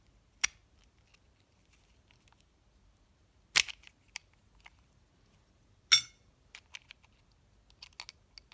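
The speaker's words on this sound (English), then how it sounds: "you'll need something sharp to pry out the plastic from the bottom of the case." Sharp tool prying plastic from the bottom of an iGet Bar vape case: a few sparse, crisp snaps and clicks, separated by quiet gaps, with smaller ticks trailing after.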